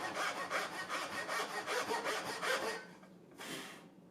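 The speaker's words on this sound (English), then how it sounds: "So I kind of just make some cuts there as if I was cutting half-ply dovetails" A hand saw cuts into wood with quiet, rhythmic rasping strokes, about a dozen close back-and-forth pulls, then a pause and one final short stroke.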